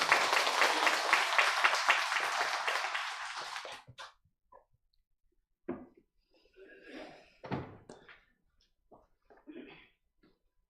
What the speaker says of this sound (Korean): 우리 선교사님 환영의 박수로 맞이하겠습니다